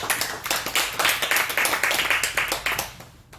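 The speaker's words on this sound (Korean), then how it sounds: "자, 박수 한번 주세요." A crowd claps steadily for about three seconds at a Korean political party gathering in a hall, dense and sustained applause that tapers off at the end.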